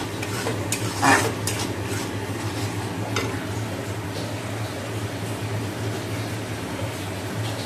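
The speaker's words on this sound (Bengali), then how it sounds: "মশলাটা কষে নিচ্ছি মাছে" Spice masala is sautéed with fish in a pan for a fish jhal curry, a continuous moderate sizzle with a spatula scraping and clinking against the metal early on, over a faint hum of room air, without voices.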